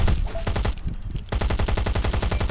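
Rapid automatic gunfire from the mobile survival shooter Last Day Rules Survival rattles out in loud, dense bursts, breaks off briefly, then resumes as a steady rhythmic stream of shots.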